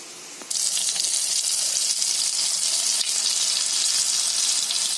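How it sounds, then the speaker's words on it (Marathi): Dhomi fish dropped into hot oil and frying Konkani style, a loud, steady crackling sizzle that bursts on abruptly after a brief quieter start and holds evenly throughout, with no talking. "अशी झाडून आहे ना अशी तेलात सोडायची. तेल आपला तापलेलं आहे."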